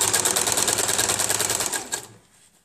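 A sewing machine stitches satin ribbon onto a tulle tutu skirt, a loud, fast, even mechanical chatter running steadily before abruptly stopping near the end.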